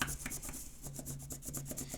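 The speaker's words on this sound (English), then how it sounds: "I'm going to use the flat side of my crayon to rub" Crayon rubbed flat-side over paper to bring out a raised fish shape, making rhythmic scratchy strokes that repeat steadily and close up with no voices.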